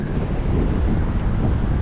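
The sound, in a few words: wind blowing on the beach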